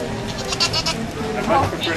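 Sheep bleating on a farm, a few short wavering calls mixed with nearby livestock noise and background chatter, with people talking throughout.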